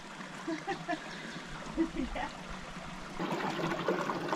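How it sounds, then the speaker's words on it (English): Fresh water trickles and splashes down nearby while faint voices murmur, the flow growing fuller and louder toward the end. "Fresh water coming down, so that's a good sign."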